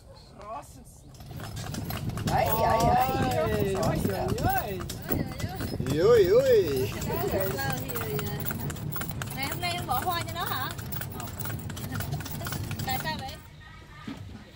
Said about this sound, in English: we were thankful to get a lift on a small horse cart.